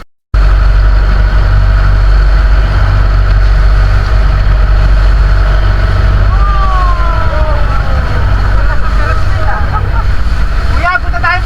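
Boat engine idling loudly and steadily beside a beach at Pundaquit, Zambales, in choppy waves, with voices and shouts underneath and a few chirpy whistles near the end.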